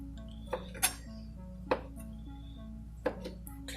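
Cubed bread going into a buttered baking dish, with a few sharp clinks and knocks of the dish scattered over a steady low hum, close by and fairly quiet.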